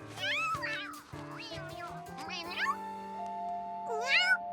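A cartoon cat meows several times in high, wavering, close cries, with a longer drawn-out meow near the end, set against background music.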